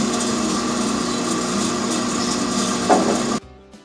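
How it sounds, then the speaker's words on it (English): A bandsaw whines steadily through a wooden block up close, cutting out a drawer for a box, then the cut ends abruptly and the blade winds down. "he is sawing out the rest of the drawers."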